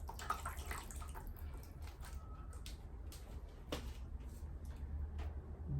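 Water drips and trickles from watering indoor plants, with soft irregular splashes and light taps close by against a low steady background hum, faint and without voices.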